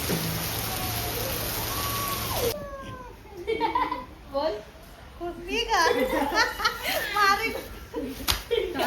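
Steady rain hisses loudly for the first couple of seconds, then gives way to a quieter scene where a cat meows repeatedly close by.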